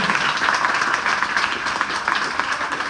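An audience applauds steadily at a school event, a dense, even wash of clapping that stays loud and close from start to finish.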